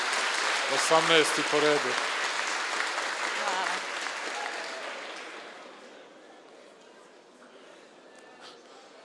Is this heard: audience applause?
yes